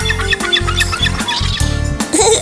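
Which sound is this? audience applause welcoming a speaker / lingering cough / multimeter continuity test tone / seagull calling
seagull calling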